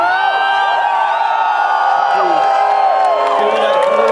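Festival crowd at Soulfest cheering and whooping, a dense, loud, sustained roar of many voices with shrill shouts rising over it throughout.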